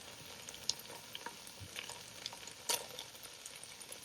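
Whole garlic cloves, serrano hot peppers and yellow onions fry in a pan with a steady low sizzle, broken by a few sharper crackles and stirring clinks, with no voices.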